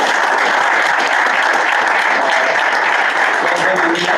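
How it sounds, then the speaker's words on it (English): An audience at a fintech meetup applauds in steady, loud clapping that runs throughout, with murmured voices mixed underneath. "Big applause."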